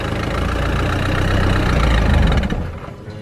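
A car engine runs steadily with its wheels dug into a sandpit, a loud, close, low rumble that holds even for a few seconds, then eases off near the end.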